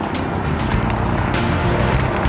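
An Audi hybrid car on the move, a loud, dense rush of road and engine noise heard from close by, steady throughout with brief swells.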